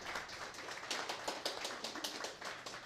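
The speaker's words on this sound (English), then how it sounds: "a round of applause for our panel and our moderator" Small audience applauding a civic action panel and its moderator, a thin round of distinct individual claps in an uneven rhythm, fairly close and without talk.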